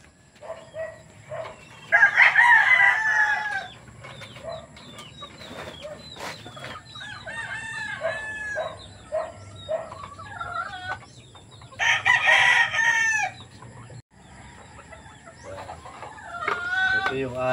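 Several sweater-breed roosters and hens in scratch pens give loud, near crows and repeated clucks, bursts rising and falling over about seventeen seconds, with a voice talking intermittently between them.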